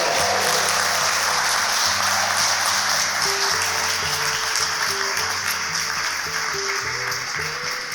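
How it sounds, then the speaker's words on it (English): Wedding guests clap in a steady, loud wash of applause near the end of a ceremony, with a melodic instrumental line playing alongside throughout. "Would it be lovely to give them another round of applause"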